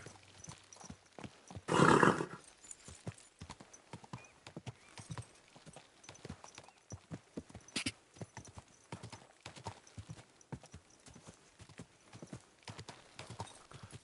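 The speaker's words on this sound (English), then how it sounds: "Finally a horse." Horse hooves clip-clop at a steady walking rhythm in Kingdom Come Deliverance 2, a continuous run of light close thuds with a loud whinny near the start and a brief burst later.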